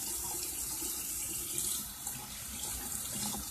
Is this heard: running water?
yes